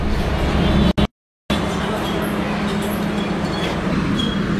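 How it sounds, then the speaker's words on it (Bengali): Rupashi Bangla train running from Jessore Junction toward Benapole, a steady loud rumble heard continuously, broken only by a brief drop to silence. "বেনাপোলে যশোর জংশন থেকে রূপসী বাংলা ট্রেন ছেড়ে দিল।"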